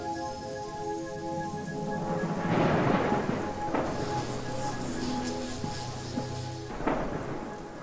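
Thunder rumbles through a stormy scene in the video game Twinsen's Odyssey, with a long rolling crash swelling across the middle and another sharp clap near the end over a steady musical hum.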